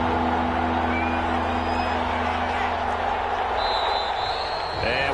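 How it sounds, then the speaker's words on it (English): Steady stadium crowd roar in a PS4 American football video game fills the clip, with cheering and clapping and a voice talking over the continuous noise. "The crowd's not doing that O-line any favors."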